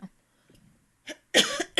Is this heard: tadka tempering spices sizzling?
no